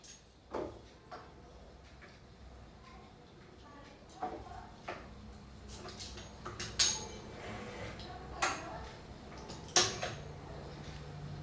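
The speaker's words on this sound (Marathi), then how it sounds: "पहिले आपल्याला कडचे हे कापून घ्यायचे असं" A knife or cutter trims the edges of rolled maida shankarpali dough in scattered light taps and clicks on a board, close but quiet, with someone speaking in between.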